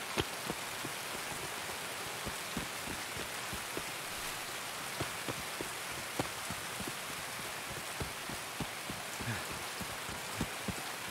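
Constant rain hiss in the video game Escape from Tarkov, dotted with scattered sharper drop taps, steady and moderately close with no talk over it.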